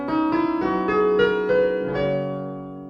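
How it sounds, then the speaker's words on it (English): A piano plays a rising scale of clear single notes with one extra note added, each struck in steady succession before the last note rings out and fades. "This time we're going to do a full scale with an extra note. It will sound like this on the piano."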